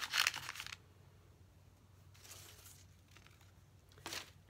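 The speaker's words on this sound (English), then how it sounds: "I just love the way a paper bag sounds." A paper bag crinkles in short bursts while fabric packs are assembled for a junk journal: three separate rustling handfuls with quiet pauses between, close and fairly soft.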